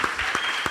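A church congregation applauding during a Bible Day service, heard as a short burst of dense clapping with a few louder claps standing out, fairly distant and not very loud.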